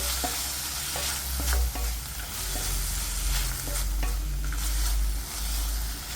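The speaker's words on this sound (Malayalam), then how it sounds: "ഉപ്പ് കൂടി ചേർത്തിട്ട് വഴറ്റാം" A chilli and shallot chutney mixture with salt sautés in a pan, producing a close, steady sizzle and crackle, with rhythmic spatula scrapes and stirring strokes repeating every second or so and no talking.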